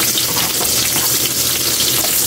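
Onion and garlic frying in hot oil, a loud, dense, close sizzle with crackling spatter that holds steady throughout the short moment without any talking.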